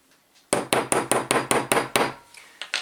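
Hammer blows stamping marks into silver, eight sharp, evenly spaced metallic strikes in a steady rhythm, close and loud, followed by two lighter taps after a short pause.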